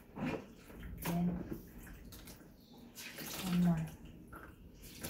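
A handkerchief being washed by hand in water, with soft sloshing and splashing at close range under quiet, low talk from a person nearby.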